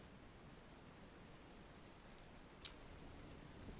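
Steady rain hisses across the open sea in a naval war video game set over the Mediterranean near Malta, a continuous wash of faint drops broken by one sharp tick, with no voices.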